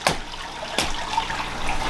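Water splashing and trickling from a leaking home aquarium, two sharp splashes followed by a steady wet trickle, close and alone.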